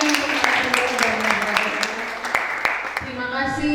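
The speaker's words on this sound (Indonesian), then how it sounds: "kita beri tepuk tangan sekali lagi." An audience at a panel discussion gives a round of polite applause, with scattered claps under a voice that keeps talking.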